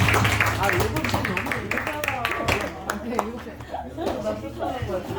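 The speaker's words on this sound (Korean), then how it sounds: "하나님께 영광의 박수 드리겠습니다." Clapping from a church congregation at a Sunday service: rhythmic hand claps mixed with voices and chatter, fairly loud and close, fading into murmured talk in the second half.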